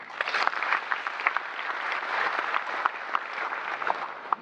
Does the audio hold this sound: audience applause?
yes